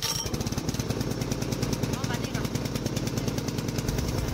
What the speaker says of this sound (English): Pull start the engine.